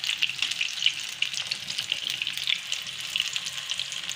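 Corn kernels from fresh desi bhutta frying in hot oil over a medium flame, a steady close hiss and crackle with dense bright sizzling throughout and no voices.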